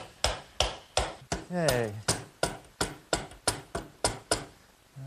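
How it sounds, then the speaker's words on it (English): Mallet blows driving an eye bolt with a washer into a bracket on a wooden garden swing, about a dozen sharp, evenly spaced knocks close by, with one brief spoken word partway through. "It's going to be a little snug, so I'm going to use a mallet to"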